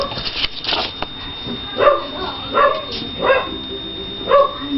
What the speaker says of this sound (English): I hope the puppy barking in the background doesn't distract you